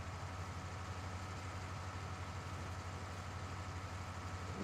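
Tractor engine idling in the Farming Simulator 19 video game, a steady low rumbling drone with constant loudness throughout, fairly quiet and continuous, no talking.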